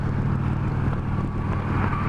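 A 2019 Indian Chieftain Dark Horse motorcycle cruises at 60 mph, engine turning around 2,300 rpm, giving a steady low rumble mixed with rushing wind noise, continuous and without talk.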